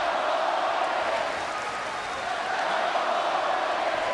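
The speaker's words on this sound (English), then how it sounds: "Crowd chanting." Wrestling arena crowd at SummerSlam 2006 for Hulk Hogan vs. Randy Orton, a dense, steady roar of many voices chanting and cheering, loud and continuous throughout.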